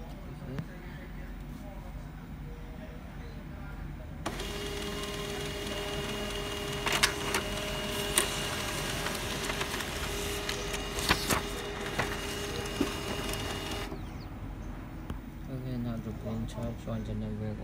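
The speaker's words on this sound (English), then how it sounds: "Now we can print it out from the printer." An HP LaserJet M14w laser printer runs through a page, starting with a whirring mechanical hum that builds with clicks and clatters, then stops abruptly, with a person speaking nearby throughout.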